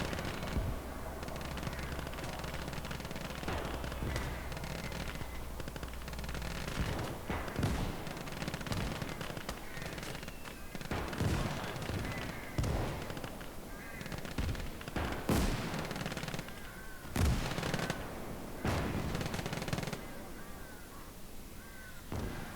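Mortar and small-arms fire in the Gates of Hell real-time strategy game, a dense battlefield mix of scattered gunshots and heavier thuds over a constant rumbling background, mid-distance and busy, with a voice talking over parts of it.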